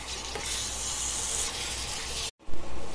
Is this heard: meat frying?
yes